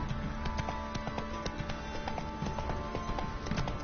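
Hooves of Roach, Geralt's horse in The Witcher 3, clip-clop in a steady walking rhythm of repeated sharp hoof strikes, close and clear over a low ambient game background, with no talking.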